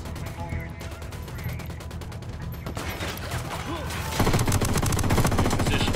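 Sustained automatic gunfire in the tactical shooter Ghost Recon Wildlands, dense rattling bursts that grow heavier and louder toward the end, with game voices and radio chatter mixed underneath.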